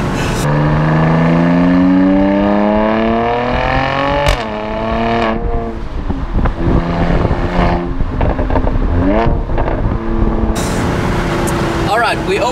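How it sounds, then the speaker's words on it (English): A 2017 Mercedes-AMG C43 convertible with sport exhaust revs loudly and close, engine pitch climbing and dropping in sweeps with sharp burbles, while someone talks over it. "the valves open, so the car sounds super aggressive"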